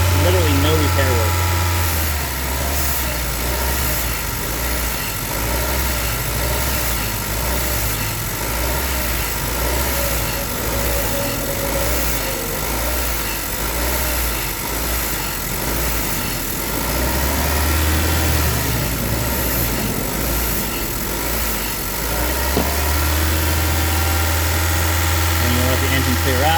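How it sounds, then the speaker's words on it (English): Honda 1.5 turbo GDI engine idles steadily and loudly after maintenance, a constant low droning hum with vibration, while a person talks over it. "And you let the engine clear out."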